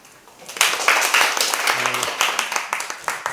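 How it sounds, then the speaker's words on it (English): An audience at a Knoll furniture training session in Taichung claps to welcome a speaker, a burst of applause that builds quickly and holds steady, with voices over it. "那我们就掌声来欢迎一下安德利亚"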